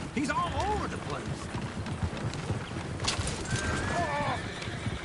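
Red Dead Redemption 2 horses pulling a coach, several loud whinnies and neighs over a busy clatter of hooves, with a few voices mixed in.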